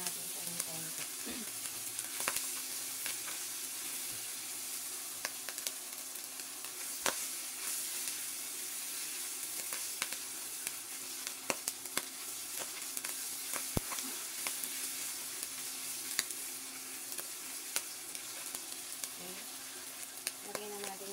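Bamboo shoots crisping in a hot pan give a steady, close sizzle and crackle throughout, with occasional sharper pops and scrapes of stirring and no talk.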